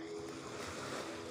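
Water lapping and splashing at a Lake Victoria beach beside a hotel, a faint, steady wash of small waves with a light hum in the background.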